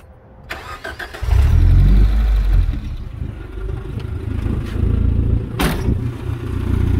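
A 1991 Suzuki Sidekick 4x4 JX convertible cranks briefly and starts, then settles into a loud, steady idle with a rough rumble from a missing muffler.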